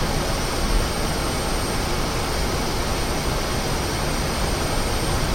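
A MiG-15bis jet engine roaring at full power on the takeoff run in DCS World, a loud, steady, unbroken whine and rumble close by with no talking over it.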